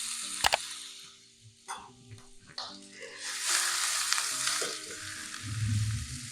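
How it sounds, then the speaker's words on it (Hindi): Garlic and ginger paste sizzles and fries in cooking oil in a pan over medium heat, a steady crackling hiss that swells as it goes, with a few clinks and stirring scrapes up close. "मीडियम आंच पर इसे हल्का सा फ्राई करें।"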